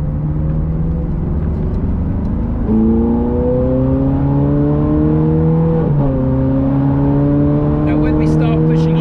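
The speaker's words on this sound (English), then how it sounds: "the exhaust note is quite baritone in its sound" Ferrari 430 Scuderia engine and exhaust accelerating through the gears from inside the car, a deep droning note rising in pitch, dropping at a shift, then climbing again, loud and continuous under someone talking.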